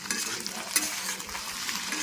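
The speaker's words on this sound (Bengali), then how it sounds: "ভাজা ভেন্ডি দিয়ে আলু" Okra and potato frying in a pan, a steady close sizzle with stirring scrapes and a brief clink of a utensil.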